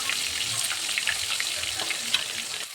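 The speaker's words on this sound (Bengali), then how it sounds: "মাছগুলি ভেজে নেব আগে।" Fish pieces frying in hot oil, a dense, continuous hiss and crackle heard up close and alone, with no voices, steady throughout and dipping briefly near the end.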